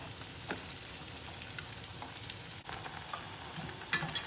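Noodles fry in margarine in a pan, a soft steady sizzle with occasional small crackles and pops, close and quiet, with no voices.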